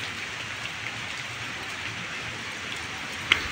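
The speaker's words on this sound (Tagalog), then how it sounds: "Bali, yan po, umuulan." Rain falls steadily outdoors, a soft even hiss of drops at low volume, continuous with no voices.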